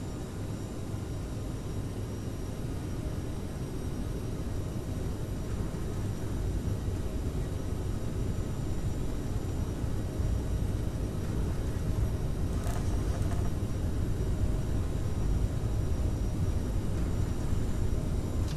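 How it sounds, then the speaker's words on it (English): Airliner engines spool up and roar steadily through a takeoff roll in Microsoft Flight Simulator, a dense continuous rumble holding at constant loudness throughout, with no talk. "Alright, we are cleared for takeoff."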